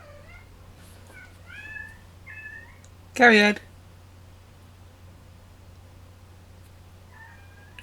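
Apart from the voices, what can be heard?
cats meowing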